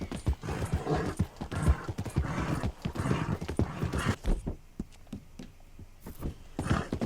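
Horse hooves clip-clop at a steady galloping rhythm in Red Dead Redemption 2, fairly close and moderately loud, with occasional sharp knocks and a brief lull before the hoofbeats pick up again.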